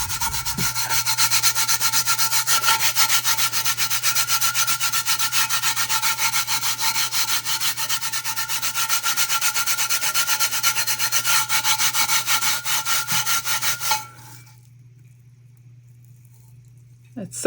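Steady rubbing and sanding of a custom resin tumbler with holographic finish, a continuous scratchy friction that runs for about fourteen seconds and then stops abruptly, leaving near silence.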